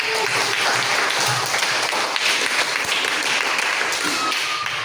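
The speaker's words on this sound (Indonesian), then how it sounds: "Beri tepuk tangan." Classroom applause from students during a teaching exam lesson, a dense, steady patter of many small hands clapping at close range for about five seconds, with faint voices mixed in.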